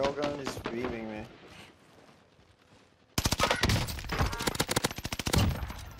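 Rapid automatic gunfire in the Warzone video game, fired with an Automaton class setup, breaks in loudly after a brief voice and a quiet pause, then continues as dense, crackling bursts of shots.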